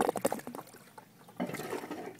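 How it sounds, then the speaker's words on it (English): Water dumps and splashes into an aquaponics tank, striking a small piece of tile placed to soften the impact, producing a close, bubbling, gurgling rush that surges again after a brief lull. "a little piece of tile here to kind of break the harsh sound of all the water dumping into the tank"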